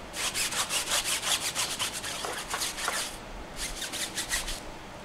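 A stiff tire brush scrubs cleaner into the rubber of a BMW i4 M50 electric car's tire, giving rhythmic back-and-forth rasping strokes, about a dozen quick ones, a short pause, then several more, close up and with no talking.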